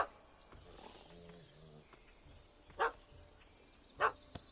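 Two short, sharp dog barks in the video game Witcher 3, a dog barking up at a cat stuck in a tree, coming as separate bursts about a second apart over a quiet ambient background, with no voices.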